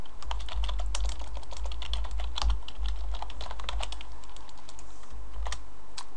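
Steady, rapid typing of code on a computer keyboard, close and fairly loud, with dense overlapping keystrokes running continuously with no talk.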